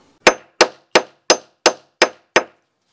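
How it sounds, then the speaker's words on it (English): Seven sharp hammer blows on a dovetail log cabin rafter joint land at an even, steady pace, each a bright ringing knock that fades quickly, with no talking. "I have to finish this up with my hammer here"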